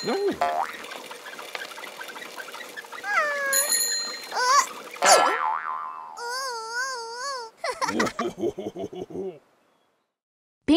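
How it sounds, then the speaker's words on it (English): Bicycle bell rung by a rider passing people on his bike, heard as bright ringing tones amid a busy string of cartoon-style boings and sound effects, with no talking. "rings his bell when he passes people on his bike"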